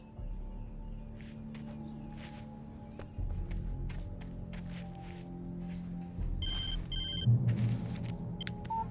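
A telephone rings repeatedly in Alan Wake, bursts of bright electronic ringing over a low ambient drone with soft footsteps and movement, no speech.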